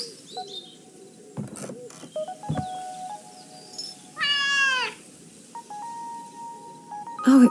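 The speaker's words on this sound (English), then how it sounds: "Oh, it must be Nora's cat." A cat meows in the video game Dordogne, a single drawn-out, clear meow in the middle of a quiet scene with soft game ambience, a few clicks and faint birdlike chirps, and no talk over it.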